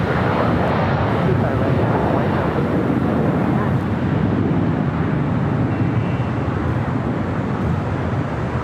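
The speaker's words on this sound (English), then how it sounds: "Got that United 757-300 now rolling down to 25 right" A United Boeing 757-300 rolls down runway 25 right at LAX, its engines making a loud, continuous roar over wind rumble.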